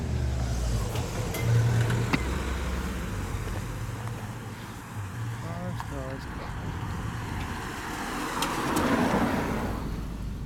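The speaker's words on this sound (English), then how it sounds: "Where that car is going" A car drives past on a street in Welshpool, its engine and tyre rumble steady under wind and people talking nearby while walking.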